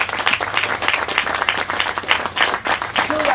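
A roomful of people at a press conference applauding members of Congress, dense steady clapping at a loud, even level throughout.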